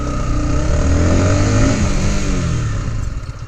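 Motorcycle engine revving high while the rider brakes hard with the front brake, a loud, close whine that climbs and falls away, heard alone.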